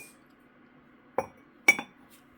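Glazed ceramic goblets with a satin finish clink together as they are stacked while a kiln is unloaded: two distinct bright clinks about half a second apart over a low, steady background hum.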